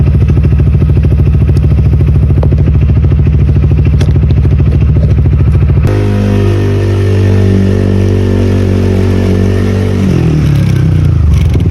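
A motorcycle engine warms up at 3 AM before a birthday ride, idling loud and close with a fast, steady pulse, then shifting to a smoother, lower drone that drops in pitch toward the end.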